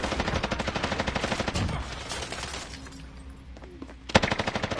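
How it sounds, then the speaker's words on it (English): Rapid gunfire from a shotgun in a Call of Duty video game, sharp repeated shots in quick bursts with a pause in the middle before firing resumes, loud and close. "It's a fucking shotgun."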